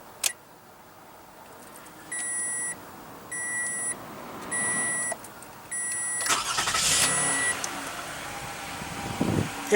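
A 2015 Toyota Highlander with a 3.5-liter V6 starts up: four evenly spaced chime beeps sound first, then the engine cranks and catches in a loud burst before settling into a steady idle, heard close with no talking.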